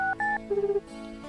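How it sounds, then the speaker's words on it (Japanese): Telephone keypad dialing in the Japanese dating-sim game Tokimeki Memorial 2: a few short electronic tone beeps, each a clean steady pitch, followed by a longer warbling ring tone, heard alone. "よし、電話をしよう。"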